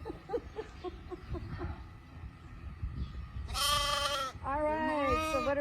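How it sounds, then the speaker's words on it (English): Goats and lambs on a farm bleat loudly and close, two long wavering calls following a stretch of quieter shuffling and faint background noise. "let's go put the goats away and we can get the lambs out"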